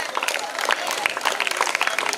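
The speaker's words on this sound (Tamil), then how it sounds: "பலத்த கரகோஷங்களை எழுப்புமாறு கேட்டுக்கொள்கிறோம்" Applause from students greeting prize winners at a school Pongal festival, a dense steady patter of many hands clapping close by across the whole stretch.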